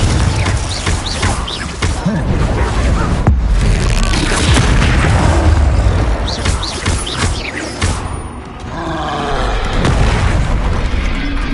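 Spell blasts such as Bombarda and Confringo from the video game Hogwarts Legacy, with loud booming explosions and crashes that repeat over continuous dense battle noise.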